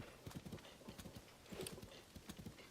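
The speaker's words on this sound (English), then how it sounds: "Oh, some wild horses" Wild horses in a Zelda game clatter along with rapid clip-clop hoofbeats in loose clusters, quiet and somewhat distant, alongside faint snorts or whinnies.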